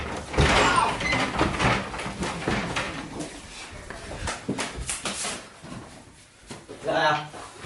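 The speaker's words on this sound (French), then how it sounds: "On la défonce sa porte" Police officers force their way through an apartment door during a raid, with repeated hard impacts and bangs against the door under shouted commands and urgent talk.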